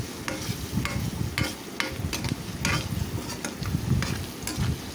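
A spoon scrapes steadily through fried onions with turmeric in a pan, with repeated rhythmic strokes and a soft sizzle underneath, close and continuous, with no voices.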